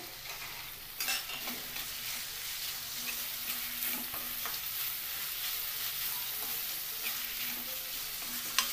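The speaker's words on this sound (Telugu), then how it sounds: "ఇలా లైట్గా వేగిన తర్వాత దీంట్లో ఈ కరివేపాకు వేసేసుకోండి." Curry leaves crackle and sizzle in hot oil for a hotel-style poori curry, a continuous close frying hiss with occasional stirring scrapes, steady and alone without talk.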